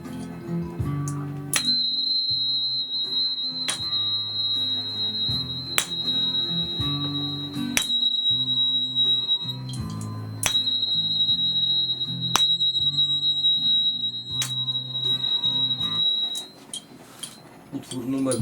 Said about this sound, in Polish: Dźwięk w C.